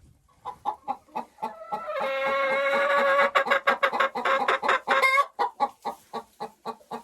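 Hens in an unheated coop cluck and chatter close by, a run of short repeated clucks swelling into a dense, overlapping burst of calls before settling back into separate clucks.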